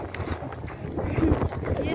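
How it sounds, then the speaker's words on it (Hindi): Strong wind gusts outdoors at a temple site, rumbling and buffeting the microphone in uneven surges, loud and close, with a voice talking over it. "और यहाँ पे इतनी तेज हवा चल रही है ना"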